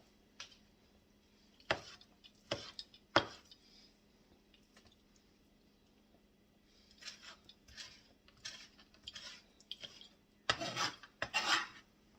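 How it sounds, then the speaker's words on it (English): Knife cutting bits of ham and fat on a board, a scattered series of sharp taps and scraping chops, close and quiet with gaps of near-silence between clusters. "I'm finding other little bits of ham and fat that I'm going to cut up and add into this mixture"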